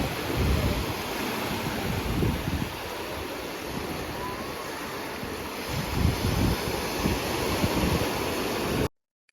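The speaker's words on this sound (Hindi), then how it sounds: "समंदर के पानी की कुछ अजीब सी ही आवाज होती है।" Sea waves at Hawksbay Beach in Karachi, with a continuous loud wash of surf and swelling breakers and some wind over the microphone, no voices, ending abruptly.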